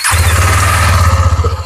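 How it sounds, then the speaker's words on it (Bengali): A 2023 KTM Duke 250 motorcycle with about 12,000 km on it runs loud and close, its single engine putting out a steady, throbbing idle for a brief moment, with no voices. "একবার ইঞ্জিনটা সাউন্ড শুনে নাও। একদম শুনিয়ে দাও।"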